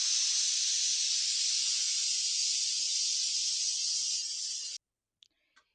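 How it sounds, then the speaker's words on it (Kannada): A pressure cooker cooking chicken biryani lets off its whistle, a loud, steady, close hiss of escaping steam holding for several seconds before cutting off abruptly, followed by a couple of faint clicks. "ಈಗ ಕುಕ್ಕರ್ದು ವಿಜಿಲ್ ಹೋಗಿದೆ,"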